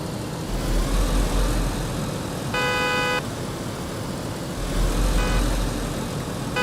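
Car horns honk in the DayZ video game, two sustained blasts a few seconds apart over a constant rumbling background, moderately loud and not especially close.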